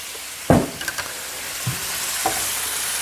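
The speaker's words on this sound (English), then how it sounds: "Give it a stir." Venison stew with a spoonful of soy sauce being stirred in a pot, with a sharp spoon knock at the start and then a few quieter scrapes over a constant low sizzle, close by, with no talking.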